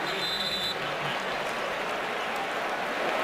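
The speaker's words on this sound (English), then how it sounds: "Jacob Shum getting a rare round of applause." Stadium crowd noise at a 2016 Cowboys at Packers NFL game, a broad steady roar of applause for the punter, distant and continuous throughout.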